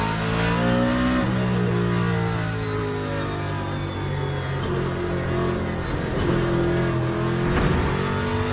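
A race car engine in the sim racing game Le Mans Ultimate snarls loudly, its pitch stepping down through a series of downshifts and rising again under throttle, with brief tire noise near the end.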